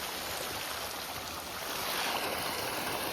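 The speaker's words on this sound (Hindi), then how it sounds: "अभी ये कुआं का पानी आ रहा है गाइस।" A motor pump draws well water on a farm, heard as a loud, steady broadband rush of gushing water that continues without pause and without talk.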